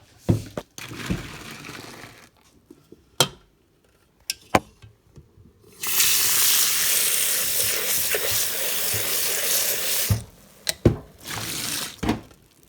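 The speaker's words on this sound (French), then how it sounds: "rincer mon bol" Water runs into and splashes around a Thermomix bowl being rinsed, a steady broad rush lasting several seconds, framed by scattered knocks and clatter before and after.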